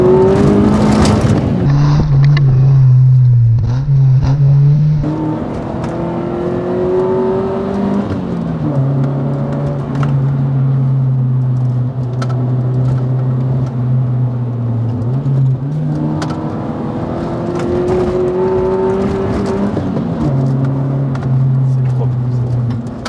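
A light car drives through corners, its engine note rising and falling as it accelerates and shifts, loud and close throughout, with someone talking over the engine.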